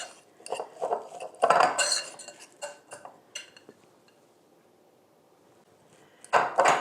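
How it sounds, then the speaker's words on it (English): A spoon scrapes and clinks against a bowl as a sticky rice mixture for keto sushi is stirred fast, in irregular close bursts with a quiet gap before a final burst. "we're going to mix it in and stir it up fast"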